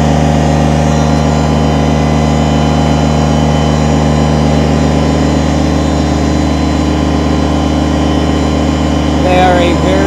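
A 2010 Kubota BX25D sub-compact 4x4 tractor loader backhoe runs at a steady idle, its diesel engine droning loud and close with a constant low hum and no talk, a faint mechanical clatter near the end.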